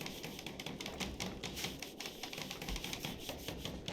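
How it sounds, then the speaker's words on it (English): Construction hammering in the video game RimWorld as colonists build traps, a fast, steady stream of light clacking taps that sounds almost like typing and runs without a break through the whole stretch. "where is that hammering noise coming from?"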